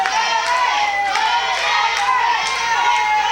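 Crowd at a CWF Mid-Atlantic heavyweight title wrestling match cheering for challenger Marcellus King, a steady loud roar of voices with scattered shouts and rising bursts throughout, close and full.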